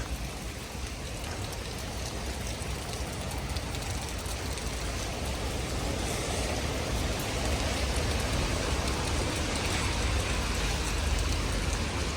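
Steady rain falling and pattering on surfaces in Ukraine, a constant broadband hiss that holds an even level throughout with no voices.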